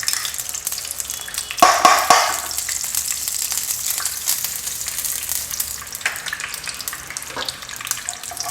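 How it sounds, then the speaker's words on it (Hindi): Ghee heating in a pan gives a steady, soft sizzle and crackle, with a couple of brief clinks or scrapes near the start and no voices. "हम हल्का सा ऐसे गरम कर रहे हैं घी को।"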